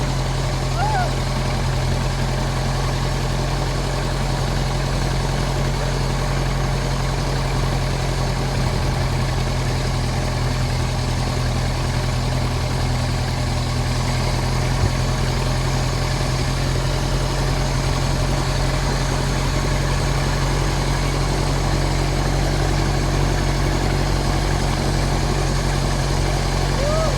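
A Ford Model T's engine runs while the car is driven, giving a steady, continuous low mechanical drone with a constant pitch that holds evenly throughout.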